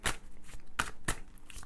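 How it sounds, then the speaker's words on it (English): Oracle cards being shuffled by hand, several sharp riffling bursts at an uneven rhythm, close and moderately loud, with no talking. "I'm just going to shuffle these oracle cards"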